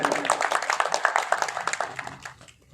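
Audience clapping at a media company's celebration event, a fairly small group giving rhythmic, distinct claps that fade out after about two seconds.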